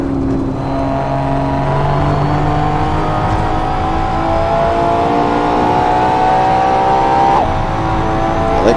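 A Ferrari LaFerrari on a track-day lap at Spa, its engine holding a loud, continuous high-revving drone with rising harmonic sweeps as it climbs through gears and a brief shift near the end, heard alone without talk.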